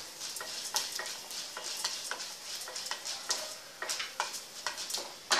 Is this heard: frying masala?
yes